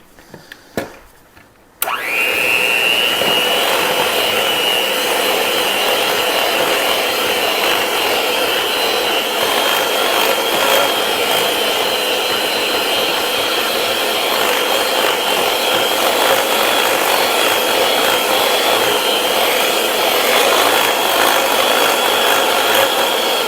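An electric mixer blends chocolate cake batter, starting abruptly after a few quiet clatters and then running as a steady, loud, high-pitched whir that holds unchanged for about twenty seconds, close and alone.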